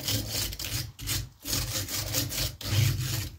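A hand file rasps back and forth across a chainsaw chain in steady, rhythmic strokes with short pauses between passes, close and fairly loud, no voices.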